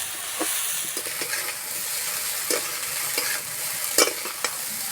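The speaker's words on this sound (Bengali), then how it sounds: "এই যে ভাজা হচ্ছে, যা সুন্দর গন্ধ বেরিয়েছে।" Leftover rice seasoned with sugar and black pepper fries in a pan, a steady sizzle under repeated scraping strokes and small clinks from stirring, close and even, without talk.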